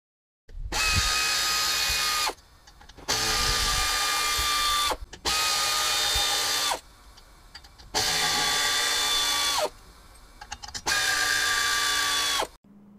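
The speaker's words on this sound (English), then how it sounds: "I just need to remove the six bolts that holds the disc brakes, but I have three additional bolts that holds the ABS pulser rings" A power tool spins out the brake disc and ABS pulser ring bolts on a Honda Goldwing wheel, giving five loud whirring bursts of a couple of seconds each, separated by short quiet pauses.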